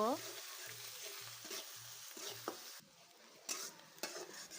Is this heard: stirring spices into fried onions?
yes